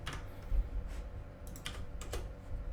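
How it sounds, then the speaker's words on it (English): Rapid typing on a computer keyboard, clicking keystrokes in an uneven rhythm over steady room hiss, close and moderately quiet, with no voices. "This is just me typing."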